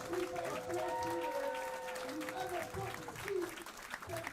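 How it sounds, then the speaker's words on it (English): Crowd at a Street Fighter IV tournament, Hypespotting 3 Top 32, cheering and applauding steadily in the background throughout, under overlapping nearby voices. "lots of cheering going on in the background now"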